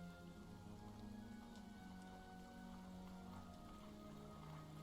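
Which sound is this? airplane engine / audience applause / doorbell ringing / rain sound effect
rain sound effect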